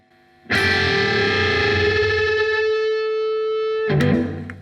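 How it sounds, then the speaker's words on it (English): Distorted electric guitar sustains a loud, buzzing string bend alone, two notes beating against each other in a fluttering wobble until they merge, then a second pick attack near the end. "you can surely hear that fluttering of the interference between them two notes until they meet."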